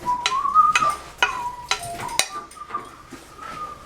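A man whistles a wavering tune in a home kitchen, short bright phrases broken by clinks and taps of dishes and utensils nearby.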